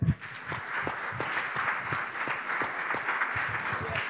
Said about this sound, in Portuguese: Uma salva de palmas para as mulheres.